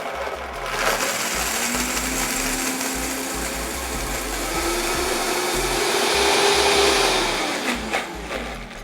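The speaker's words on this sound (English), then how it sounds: "So I'm going to start with a little bit of water and blend that up and see how that goes." A blender whirs steadily as it purees cashews with water into a thick cream, a loud continuous motor drone with slight shifts in pitch and load, running alone with no talking.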